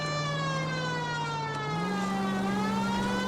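In the video game L.A. Noire, a police car siren wails steadily and loudly throughout, with a long sustained tone that shifts pitch slightly partway through over a constant engine and traffic bed.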